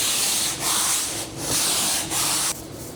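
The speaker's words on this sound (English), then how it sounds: "I'll go ahead and quickly sand it over with P240 sandpaper just to get it smooth" Sandpaper of P240 grit rubbing back and forth over painted wood panels in a camper van build, steady close hissing strokes with brief pauses between passes, ending in quieter sanding.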